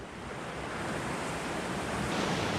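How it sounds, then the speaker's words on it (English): Waves break and wash over a rocky beach, a broad steady rush of surf that swells slightly louder toward the end, heard alone with no voices. "there's a beach over there."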